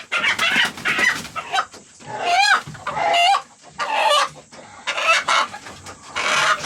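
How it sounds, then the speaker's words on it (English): Roosters cluck and crow inside a farm coop, with repeated loud, close calls and short pauses between bursts. "I really just needed to go out there in the morning and gather up the roosters"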